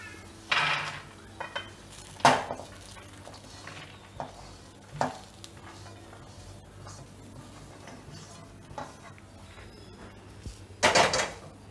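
Dry fruits roasted in ghee for mixed dry fruit laddoos are scraped from a pan onto a plate, giving scattered clinks and scrapes with a few louder knocks at the start, middle and end, and no talking.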